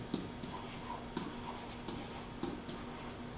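Marker or chalk strokes on a classroom board during a math lesson, a series of short scratchy taps and squeaks spaced irregularly, close and fairly quiet over a steady low hum.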